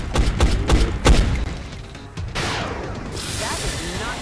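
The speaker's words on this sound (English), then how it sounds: "here come the aliens. Reaction shots all around." Reaction-shot gunfire against incoming aliens in the turn-based strategy game XCOM: Enemy Unknown: a rapid cluster of loud weapon blasts, then a hissing, rumbling aftermath of impacts and effects.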